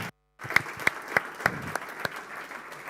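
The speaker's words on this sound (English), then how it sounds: "I think we should all give them a huge round of applause" Sparse, scattered clapping from a conference audience at WorkerConf 2022 in Dornbirn, a handful of distinct claps spaced out after a brief silence, fairly quiet and thin.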